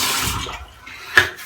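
Water splashed by hand onto a face before shaving, a close wet rush that fades within half a second, then a short sharp splash near the end.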